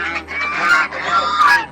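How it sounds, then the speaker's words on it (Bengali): Several ducks honking loudly and close by, overlapping nasal calls rising and falling in quick bursts with no talking. "এই হাঁসগুলো দেখো"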